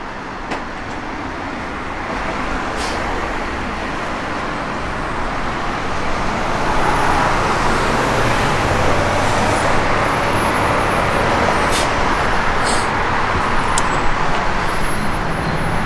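A 1970 Buick Gran Sport with Ram Air induction idles and runs steadily, a broad, loud engine rumble that swells slightly midway and holds evenly, heard close with no talk over it.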